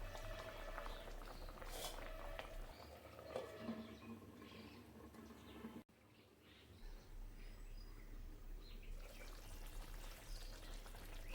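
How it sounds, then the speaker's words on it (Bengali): Mustard hilsa fish simmering in a covered pan, a steady soft bubbling hiss that runs the whole time, with a brief clatter partway through, and no talking. "তো সব মাছগুলো দিয়ে এবার ঢেকে কিছুক্ষণ ফুটিয়ে নেব।"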